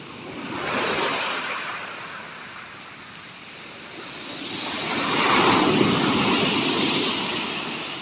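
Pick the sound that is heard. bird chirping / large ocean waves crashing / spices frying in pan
large ocean waves crashing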